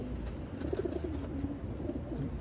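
Soft, low coos from young racing pigeons repeat gently and quietly, a few murmuring calls over faint background noise.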